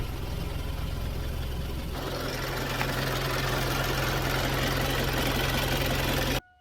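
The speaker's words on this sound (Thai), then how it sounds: "เราจะมาทดสอบ สตาร์ทรถกันนะครับ ปลดเกียร์ว่าง เรียบร้อย บิดกุญแจ สตาร์ทไง" A car fitted with a new FB S950 battery cranks briefly, catches and settles into a steady, loud idle that runs close by and uninterrupted before cutting off abruptly at the end.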